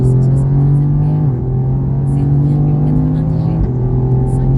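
A car lapping a race track at Mireval, its engine droning loud and steady in the cabin and rising in pitch as it accelerates, with gear changes and a voice talking over the engine noise.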